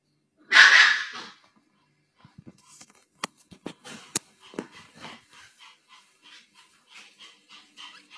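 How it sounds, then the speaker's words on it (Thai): A dog indoors gives a sharp bark or sneeze-like burst near the start, then a run of soft panting, snuffling breaths and small clicks, fairly close and quiet. "นี่ก็เห่าเก่งเลย"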